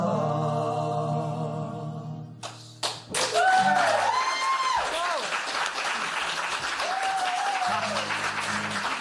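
An audience at an intimate livestreamed concert bursts into applause, clapping and cheering swelling suddenly after a sung passage fades, with whoops and voices mixed into the crowd noise.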